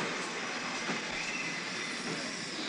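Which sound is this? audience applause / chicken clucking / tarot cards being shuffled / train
train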